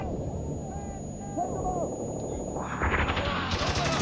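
Gunfire crackles in a firefight in the video game Spec Ops: The Line, with sharp shots and bursts over a dense wash of battle noise, intensifying toward the end.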